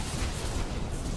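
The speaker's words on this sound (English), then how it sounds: "Hex and blow him up with the rockets" A rocket blast from the Dota 2 hero's ability in the middle of a professional tournament match, a dense low rumbling burst that fills the whole short moment, heard alone without speech.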